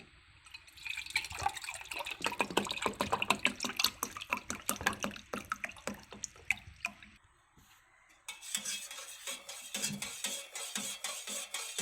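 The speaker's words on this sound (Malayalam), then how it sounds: "ഇനി ഇതിലേക്ക് തണുത്ത വെള്ളം ഒഴിച്ചു കൊടുക്കാം" Cold water poured into homemade lemon juice, heard as close, splashing liquid that trickles and drips for several seconds, then fades into a quieter steady hiss.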